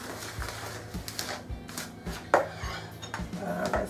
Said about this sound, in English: Let's make sure this is all combined in this dry mix bowl.